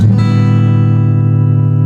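A guitar strums a chord with the sixth string deliberately muted, a single loud chord ringing out and sustaining, then slowly fading, with nothing else playing.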